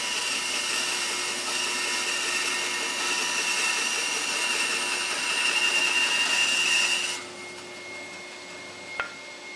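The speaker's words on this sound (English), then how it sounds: "just cut them on the bandsaw, pass them through the thicknesser or the planer" Oak leg pieces being machined on a bandsaw and thicknesser, a steady broadband whine running loud for about seven seconds before cutting off, followed by a fainter hum and a single sharp click near the end.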